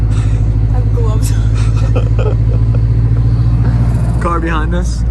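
A 300HP Subaru WRX turbo engine rumbles steadily from inside the cabin, with brief whooshing flutter and rising rev sweeps near the end as the car pulls away.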